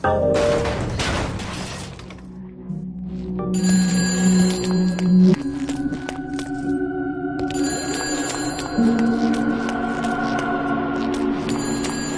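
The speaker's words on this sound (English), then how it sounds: "Expecting any phone calls?" A telephone rings in the horror action game Shadow of the Damned, a repeated high bell-like trill sounding in bursts over eerie game ambience, with a shattering crash near the start.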